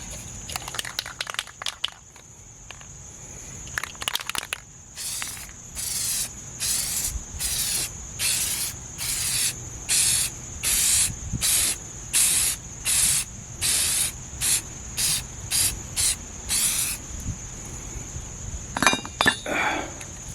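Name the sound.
spray coat applied to Range Rover Classic steering part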